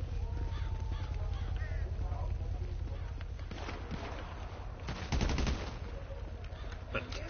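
Gunfire in Grand Theft Auto V: a dense burst of rapid shots crackles in the middle, loud over a constant low background rumble, then trails off.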